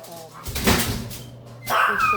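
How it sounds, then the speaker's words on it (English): A dog barks a few times at moderate distance, the sharp yelps standing out against quiet room noise. "I'm sorry about the dogs"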